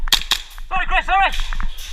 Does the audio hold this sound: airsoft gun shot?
yes